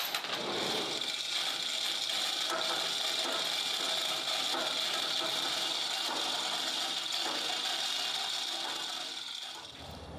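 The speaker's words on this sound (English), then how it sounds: "The hinge attaching bolts need to be removed. We'll take these out, we'll set them aside." A ratchet wrench backs out the hinge bolts on a RhinoAg X Series mower deck wing, a continuous rapid clicking and grinding that runs steadily for about ten seconds at close range, with no talk.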